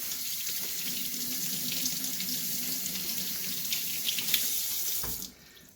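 Tap water runs steadily into a sink while soap is rinsed off a resin lamp made with building-block bricks, a continuous close splashing hiss that cuts off abruptly near the end.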